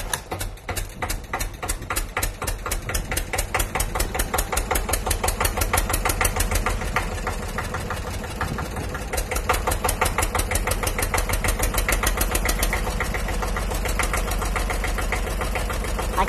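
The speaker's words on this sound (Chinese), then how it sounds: "所以把钱付完了以后，我要开车回家" Car engine running steadily while driving, a continuous rumbling drone with rapid regular pulsing throughout, fairly loud and close, with no talking.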